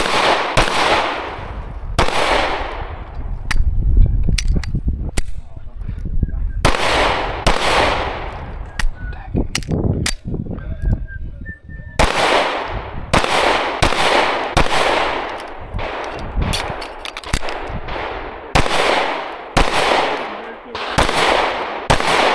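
Repeated pistol gunshots at an IDPA shooting match ring out in loud, sharp strings and rapid volleys across an outdoor range, with brief pauses between bursts.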